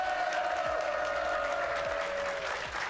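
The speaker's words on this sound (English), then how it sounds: "Give yourselves a round of applause." A crowd at a Rocket League world championship watch party applauds and cheers continuously, loud and dense throughout, with a sustained whistle or voice tone on top.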